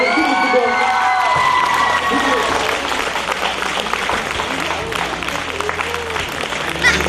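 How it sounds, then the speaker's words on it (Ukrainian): Applause from a TV studio audience, a sustained dense clapping that runs the whole time with a few cheers mixed in, loud and close. "Ваши аплодисменты."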